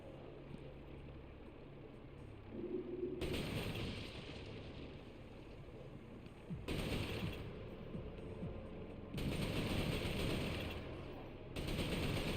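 Automatic gunfire in an Insomniac first-person shooter video game, bursts of rapid strafing fire alternating with quieter stretches over a continuous game background, moderately loud.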